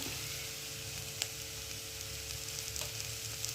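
Pasta tossed with cabbage, vegetables and spices frying in a pan: a continuous close hiss of sizzling oil with faint clicks of stirring, steady and alone without talk.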